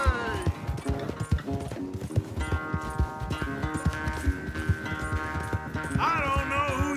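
Horse hooves clatter in a fast galloping rhythm during a race in Red Dead Redemption 2, steady and close under a busy musical score, with a voice calling out over the action.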